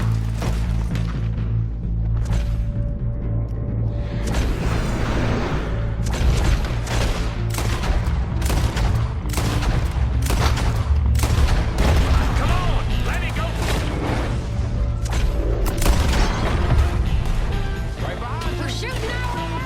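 Shootout in Red Dead Redemption II in the town of Valentine: rapid, repeated gunshots and booms crack over a loud, steady background rumble, with shouting voices mixed in.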